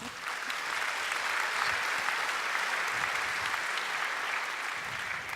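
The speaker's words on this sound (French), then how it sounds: "On peut peut-être l'applaudir." An audience at a festival interview event applauds, dense and even clapping that holds steady and loud for several seconds without any voice over it.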